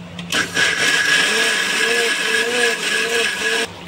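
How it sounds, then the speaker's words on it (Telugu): A kitchen mixer grinder whirs loudly and continuously while blending cooled spinach (palak) into a smooth paste, starting abruptly and stopping near the end, its motor pitch wavering slightly. "పాలక్ని మిక్సీకి వేసుకోవాలి ఫ్రెండ్స్ నున్నగా."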